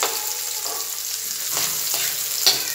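Seasonings for Jamaican spicy tin mackerel frying in a pan, an even close sizzle with occasional stirring clinks and scrapes, no talking.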